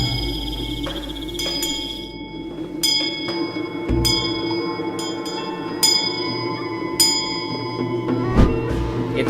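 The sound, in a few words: bell ringing at night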